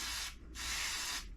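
Spray can spraying inside a shipping container, two hissing bursts close by, a short one then a longer one after a brief pause.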